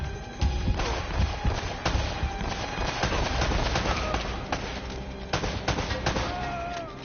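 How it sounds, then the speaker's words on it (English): Gunfire rattles through a firefight in Uncharted: Drake's Fortune, repeated sharp shots and bursts with thuds spread across the stretch, loud and busy over a music and effects bed while a voice talks intermittently. "I'm trying to pop a few shots."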